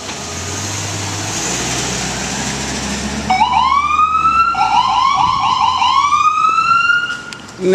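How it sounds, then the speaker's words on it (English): An ambulance siren approaches and passes, wailing loudly in rising and falling sweeps over low traffic and engine rumble before cutting off near the end. "Here come the ambulance."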